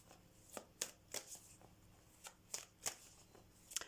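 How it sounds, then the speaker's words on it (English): Tarot cards are shuffled and drawn from a deck, giving a series of soft, crisp card slaps and flicks in irregular bursts, close up and fairly quiet with no talking. "I'm going to get a card from the Queen of the Moon."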